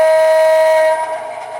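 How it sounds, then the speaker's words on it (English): An MTH model train sounds its horn in one loud, sustained multi-tone blast at close range, then cuts off abruptly and leaves a fainter trailing hum. "Let's try the horn"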